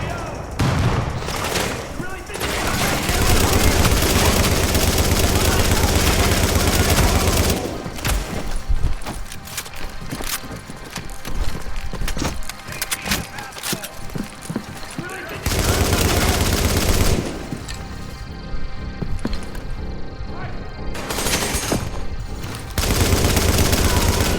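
Sustained turret gunfire in The Division during a Strike global event survival fight, dense continuous bursts of automatic fire with short pauses, loud and close throughout, with a voice talking over it.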